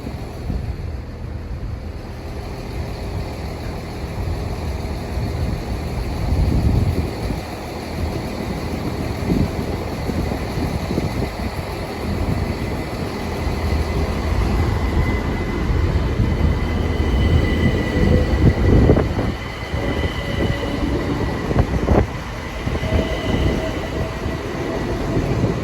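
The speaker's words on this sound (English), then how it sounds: "Now leaving platform 2 is the 1419 Southeastern service from London Charing Cross to Dover Priory" A Southeastern Class 375 electric train, unit 375905, pulling out of platform 2 at Ashford International bound for Dover Priory, with a rumbling run of wheels and clattering rail joints, faint squeals and a rising motor whine.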